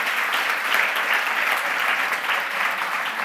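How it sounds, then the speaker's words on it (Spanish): Audience applause at a Spanish film-craft talk on sound, steady dense clapping filling the room at close range throughout, with no voices over it. "Bueno, pido un aplauso para Nacho Arenas."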